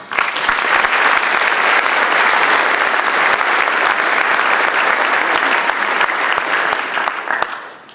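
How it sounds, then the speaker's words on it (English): An indoor audience at an opening-remarks event applauds sponsors, a dense, loud, sustained clapping that holds steady for several seconds before tapering off at the end. "join me in giving a welcome or a round of applause to all those who helped sponsor today's event"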